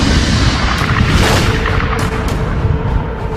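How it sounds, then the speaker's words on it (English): Supernova explosion sound effect, a loud deep rumbling boom that rolls on with hissing bursts throughout. "pulsars are formed in these incredible explosions"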